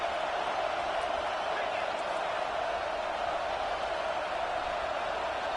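Football stadium crowd roaring steadily behind the defense on a big third down at an Auburn vs Michigan game, a loud, dense wash of cheering that holds constant throughout.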